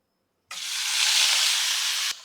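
Cut tomato pieces and tamarind hit hot oil for a village-style tomato and green chili chutney, setting off a sudden loud, close sizzle. The hiss holds steady for about a second and a half, then cuts off.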